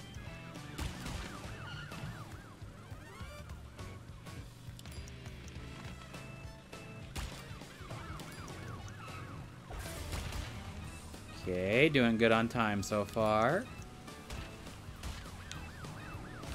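Wailing police car siren in the Crash Bandicoot N. Sane Trilogy video game, rising loudly near the end over game music and effects, with someone talking over it.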